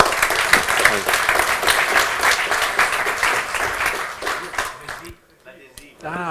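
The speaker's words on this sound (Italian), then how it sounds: "Facciamo un applauso, grazie a Lucas." An audience at an Odoo business event applauds a speaker, rhythmic clapping with voices mixed in, fading out near the end before talk resumes.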